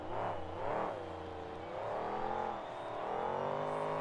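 A monster truck at a Houston 2006 monster truck event revs hard while spinning donuts, its engine wailing up and down in pitch in repeated surges, loud and close with no voices heard.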